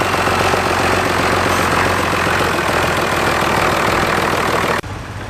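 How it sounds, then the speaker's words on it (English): A six-cylinder Massey Ferguson 35 tractor engine runs steadily and loudly up close, with a dense even drone that cuts off sharply near the end to a quieter background. "a 6-cylinder Massey Ferguson 35"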